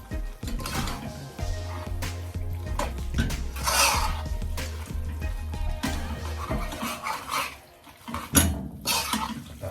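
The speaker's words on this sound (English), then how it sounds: "just mix that pasta around now" Pasta being stirred and tossed in a pan for pork Alfredo, with scraping and clinking of a utensil against the pan and soft wet squelching, close and steady throughout.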